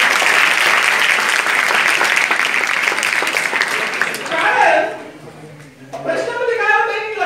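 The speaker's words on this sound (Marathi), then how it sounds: "त्यांच्यासाठी एकदा जोरात टाळी वाजवा." A lecture audience at a 10th board exam study tips session bursts into loud, dense applause that holds steady for several seconds, then breaks off as a voice speaks. A short second round of clapping rises briefly near the end.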